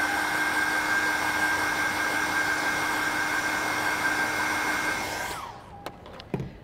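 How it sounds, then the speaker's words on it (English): A hairdryer blasts steadily to dry dyed lightweight Lutradur fabric, a loud constant whine that cuts off near the end, leaving a few faint handling clicks. "Now I'm going to dry it off just using the hairdryer here, and that will dry in just a few seconds."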